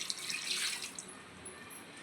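Water poured from a tap onto cleaned mutton seasoned with turmeric and salt, ready to cook for mutton sambar; a brief, faint splashing gush that swells for about a second and then thins to a soft trickle.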